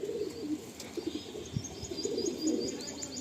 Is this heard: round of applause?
no